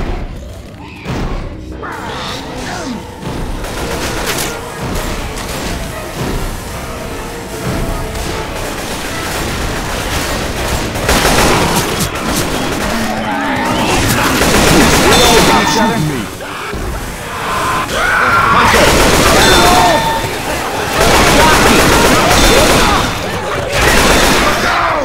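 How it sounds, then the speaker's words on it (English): Loud, sustained gunfire aimed at the listener: dense bursts of shots and sharp metallic clangs and thuds from nearby impacts, continuing for the whole stretch with little pause. "Stop shooting me!"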